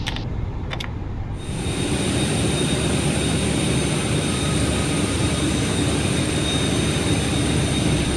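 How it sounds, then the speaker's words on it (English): An Airbus A380 in a flight simulator game spools up as engines start, with a dense, loud, steady roar and high whine that follows a few brief clicks at the start. "ignition. Starting engine number 3 and 2."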